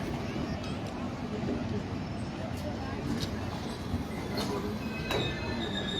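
A train sits at Murud railway station while crowds of passengers get off, giving a steady rumbling rail noise with faint metallic squeals and clanks, mid-distance, under a busy platform hubbub.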